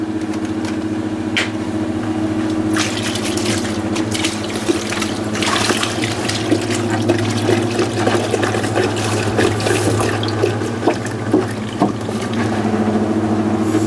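Windshield washer fluid pours into a tractor tire, making a loud, continuous gurgling flow with a steady low hum underneath and irregular bubbling and sloshing bursts that grow more active toward the end.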